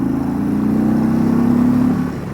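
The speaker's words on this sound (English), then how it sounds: "Boy, does this bike sound good." An Indian Chieftain Limited motorcycle fitted with Tab Performance exhaust rumbles at a steady, deep idle with a slight rise in revs, close and loud, with no talking.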